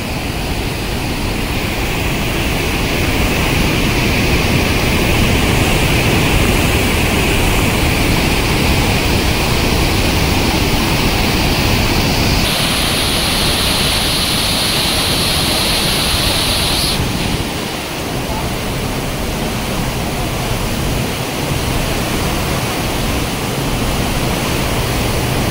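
Randha Falls at Bhandardara roars as a massive monsoon flood of water, a loud, continuous broadband rush that stays steady and close throughout, with a brief brighter hiss partway through.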